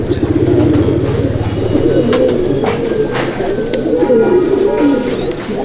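Malwai pigeons coo steadily in a loft, a continuous low warbling chorus from several birds close by, with faint background traffic.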